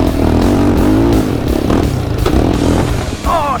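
Yamaha Raptor 686 and Predator 560 quads roar around a dirt track, loud close engine noise with revving rises and clattering, running continuously.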